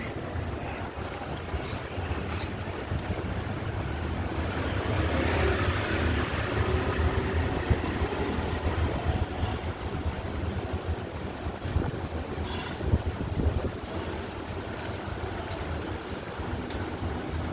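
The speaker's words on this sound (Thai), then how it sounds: "อุ้ยลมแรงอะ่ะ ลมแรง" Strong wind buffets a boat, a continuous roaring rush of gusts and microphone wind noise mixed with water sounds, loud and unbroken throughout with no voices.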